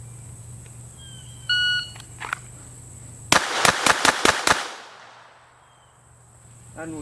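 A shot timer beeps a few times, then six sharp pistol shots crack in a quick, even string from a Glock, either a .22 LR Glock 44 or a 9mm Glock 19, on a backyard range, echoing briefly before quiet returns.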